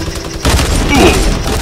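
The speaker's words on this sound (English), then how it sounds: "Got the minigun." Loud burst of rapid minigun fire in Fortnite Battle Royale, starting abruptly after a brief quieter moment and rattling on continuously to the end, close and dominant.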